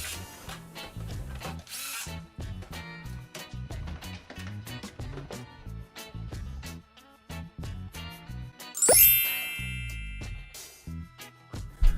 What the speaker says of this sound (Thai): ปิดฝาให้สนิทนะครับยิงน็อตทั้ง4ตัว